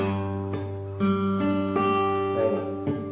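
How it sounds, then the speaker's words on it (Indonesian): A wrongly fretted guitar chord with its fourth string muted or buzzing is strummed several times in a steady sequence, each strum ringing close and fairly loud with a slightly dull, uneven tone. "Kalau misalnya kita salah mencet itu pasti bunyinya seperti ini"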